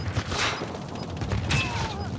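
Gunfire in the battle royale game Call of Duty Warzone, with scattered bursts of shots and thuds, some sharp and close and others more distant, over a busy game background.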